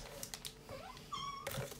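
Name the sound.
cat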